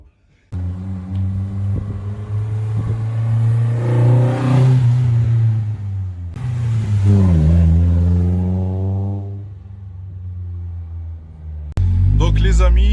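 Nissan S15 Silvia in Mona Lisa livery driving, its engine droning loud and close with rising and falling revs through shifts, heard from on board under steady talk.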